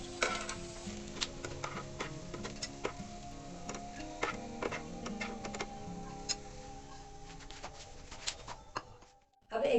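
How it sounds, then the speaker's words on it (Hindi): Egg Manchurian balls deep frying in hot oil, a quiet steady sizzle with scattered ticking pops and stirring clicks, ending with a short louder clatter. "इसको हमें डीप फ्राई करना है, शैलो फ्राई नहीं करना है।"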